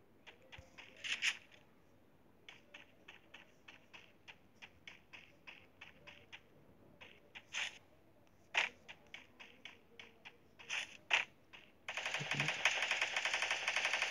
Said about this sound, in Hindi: फायरिंग का साउंड आया